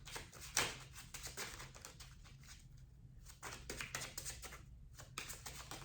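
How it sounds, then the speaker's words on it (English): Soft, rapid riffling and tapping of cards being shuffled in quick bursts with brief pauses, quiet and close. "Let me shuffle again."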